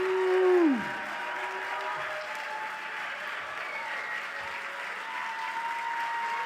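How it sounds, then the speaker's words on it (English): Audience applause at a young investigator award event, a steady moderate clapping from the crowd after a brief opening whoop, continuing evenly throughout. "All right, round of applause."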